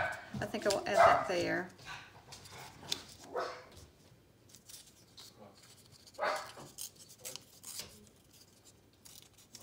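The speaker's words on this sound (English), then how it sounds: "I do apologize for the dogs barking." Dogs bark indoors in short bursts, a couple of sharp yips and barks at a moderate distance, mixed with paper and scissor handling sounds while someone talks quietly.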